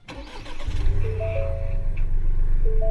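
A 2025 Ford Bronco Sport Big Bend with a turbocharged 3-cylinder engine cranks briefly and catches, then settles into a steady, low, fairly quiet idle heard up close from inside the cabin.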